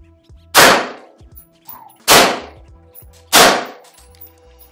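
Three loud, sharp rifle shots of green tip ammunition fired at a Level III ballistic plate, evenly spaced about a second and a half apart outdoors, each a close crack with a brief ringing impact and a short decay.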